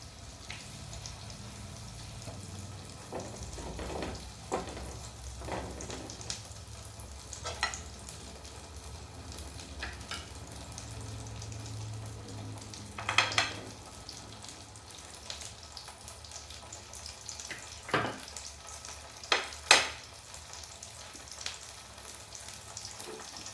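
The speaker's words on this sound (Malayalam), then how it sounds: "ബട്ടർ മെൽറ്റായി വരുമ്പോൾ നമുക്ക് അതിലേക്ക് ടോഫു വെച്ചിട്ട് ഫ്രൈ എടുക്കാം." Tofu fries in melted butter in a pan with a soft, continuous sizzle, close and fairly quiet, broken by a few scrapes and clatters of handling and a brief splash of running water.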